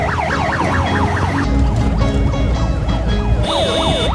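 An ambulance siren wails loud and close in a rising-falling sweep that repeats steadily through the whole clip, with low traffic rumble beneath and a second, higher siren tone joining near the end.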